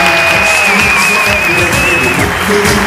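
A university auditorium audience gives loud, dense, sustained applause for members of the university leadership team. The clapping forms a constant roar with a faint tone running beneath it.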